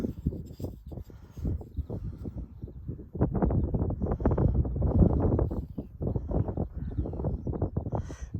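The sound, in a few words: strong wind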